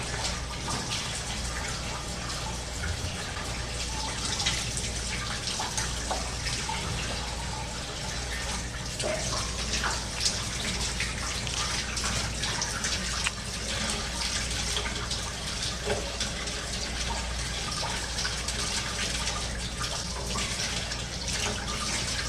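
Fresh wild ginseng root is washed under a steadily running tap, a continuous close rush of water with small sloshes and drips as the root is handled, and no talk over it.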